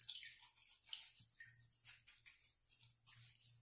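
Water trickles and drips onto a shaving brush and cream, a faint, irregular series of soft splashes and wet patters close by, with no talk.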